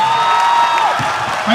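Crowd at a Haryana cultural event cheers and claps loudly for a visiting Bollywood actor, a thick continuous roar of applause with a few whistles and voices mixed in.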